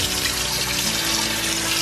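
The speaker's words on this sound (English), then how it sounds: "I'm going to put them in cold water so they stop cooking." Cold water runs from a tap into a bowl of boiled eggs, a loud, steady, close rushing splash that continues alone throughout.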